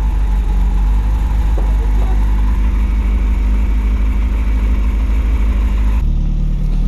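A BMW 318is turbo engine running without an engine map, idling high with a loud, steady, close drone that shifts slightly in tone near the end.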